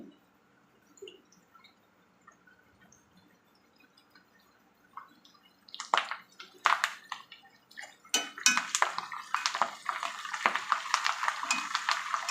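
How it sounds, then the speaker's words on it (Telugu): Oil in a pan crackles and sizzles faintly at first, then bursts into louder spitting and popping as dried red chillies and curry leaves hit it; no talking. "వీటిని కొద్దిగా ఫ్రై అవనిద్దాం దీంట్లోనే కరివేపాకు అనేది వేయాలి"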